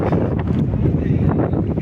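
Strong wind on Osam hill at Patanvav roars and buffets the microphone in a constant low rumble, loud and close, with no voices.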